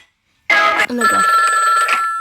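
A telephone rings loudly and close by, its electronic tone starting after a short silence and continuing without break, with a slight dip partway through.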